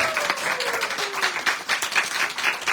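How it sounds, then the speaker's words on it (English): An audience at an evening religious talk in Seattle claps for the host, a dense, steady round of applause nearby with no voices over it. "First of all, clapping for the host."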